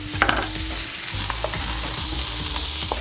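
Leftover butter hits a hot steak dish with garlic mushrooms and sizzles steadily and close, broken by a few sharp spoon or pan clinks.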